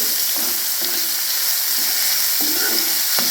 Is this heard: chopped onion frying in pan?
yes